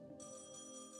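A telephone starts ringing for an encrypted call in Trails in the Sky the 3rd, a bright electronic tone that cuts in after a short pause and holds steadily, quiet and with no voices.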